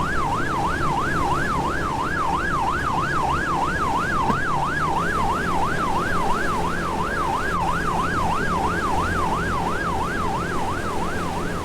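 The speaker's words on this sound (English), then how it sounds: "The siren sound effect was cool for a while." A continuous wailing siren cycles steadily up and down in Suez Canal Training Simulator, a ship-handling video game, holding loud and unbroken over a low engine rumble throughout.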